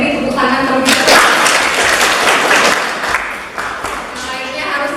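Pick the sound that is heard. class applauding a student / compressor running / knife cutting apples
class applauding a student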